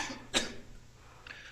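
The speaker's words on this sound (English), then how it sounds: "excuse me, I get a cough just as I'm supposed to talk" A single sharp cough from a lecturer at a cognitive science talk, close and brief, followed by a faint throat noise in an otherwise quiet room.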